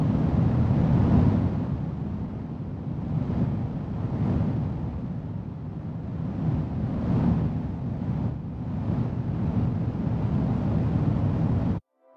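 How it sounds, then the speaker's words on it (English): Synthesized stereo fire fanned by a single wind source, built in Logic: a steady, dense roaring rush with swelling gusts, continuous and loud for about twelve seconds before cutting off abruptly. "There you can hear a stereo fire, which is being fanned by a singular wind source"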